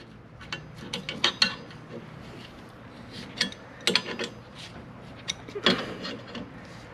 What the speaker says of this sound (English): you'll notice metal shavings are going to fall out of this as you continue to turn the tap